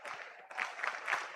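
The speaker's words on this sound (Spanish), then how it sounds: "Palmas en el Molinón" A football crowd in El Molinón stadium, at a Real Sporting versus Deportivo de La Coruña match, claps in a steady, distant wash with a few louder bursts.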